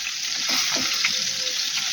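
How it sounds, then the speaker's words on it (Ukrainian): Steady, close sizzling of crucian carp frying in a pan outdoors, a bright continuous crackle with a few soft stirring scrapes, no voices. "Ось так смажиться."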